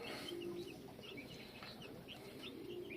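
A brooding hen clucks softly among her chicks, with faint chirps scattered over a quiet, steady background; the sound is low in level and no one speaks.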